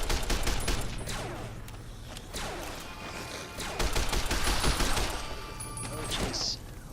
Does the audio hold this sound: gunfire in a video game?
yes